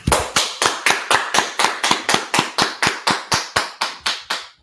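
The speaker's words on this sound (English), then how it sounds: "Let's clap it up." A crowd at an outdoor street gathering in Washington DC claps in unison, about seventeen sharp, evenly spaced claps in a steady beat, loud and close with no talking.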